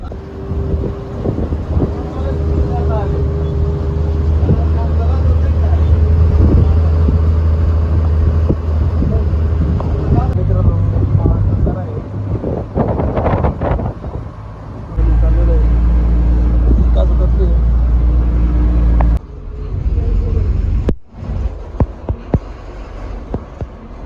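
A bus carries passengers on a trip to the Saptashrungi Devi hill shrine, its engine drone steady and loud throughout with road rumble and a brief dip near the end, while people talk over it.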